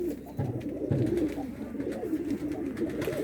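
A pigeon coos softly a few times nearby as it is released outdoors, low throaty calls over a quiet background.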